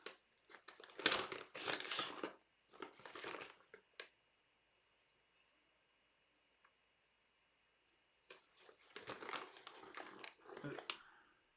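Cardboard packaging and paper seed packets crinkle and rustle in bursts as packets of barley seed are pulled out, with a quiet pause in the middle before the rustling resumes, close and fairly soft.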